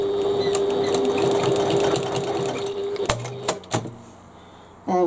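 A sewing machine stitching the corner of a bag, a steady whirring run that stops, followed by a few sharp mechanical clunks and a short burst at the end.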